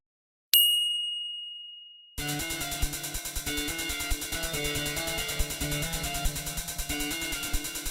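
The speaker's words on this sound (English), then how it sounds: "And don't forget to ring that bell." A single bright bell ding rings out clearly and decays slowly into silence, then a busy stretch of upbeat music begins, with a steady beat filling the rest of the clip.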